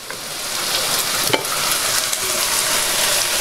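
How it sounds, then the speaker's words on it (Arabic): Onions with a big spoonful of sugar frying over medium heat in a pan, a loud continuous close sizzle with a sharp scrape or two of the spoon, no voices. "علشان عايزه البصل ده يتكرمل معايا وياخد لون بني حلو."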